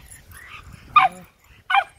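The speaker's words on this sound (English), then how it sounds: "What are you barking at" A rat terrier barks at a rabbit outdoors: two sharp, loud, close barks about three-quarters of a second apart, the first with a slight whining edge, over quiet background.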